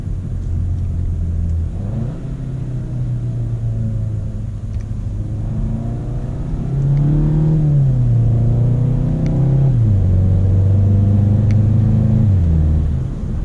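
A 2018 Volkswagen Golf GTI MK7.5 with a DSG gearbox accelerates at full throttle in second gear, heard from inside the car. The engine note climbs repeatedly, with quick dips at each gearshift, and grows louder as it pulls.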